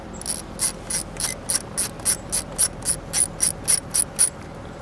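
Ratchet loosening 10mm nuts on the back of the airbag of a 1996 Mazda Miata MX-5, a close, crisp run of about fifteen evenly spaced clicks with no voices.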